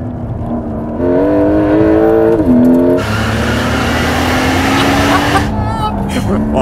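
The new Porsche 911 T-hybrid accelerates hard up close, its engine note climbing steeply through gear changes before settling into a loud, sustained roar with a faint tire sound.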